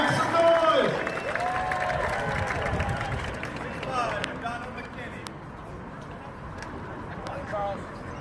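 At a celebrity tennis game, a crowd cheers and makes noise in a broad, busy wash, loudest at the start and easing later, with voices talking over it.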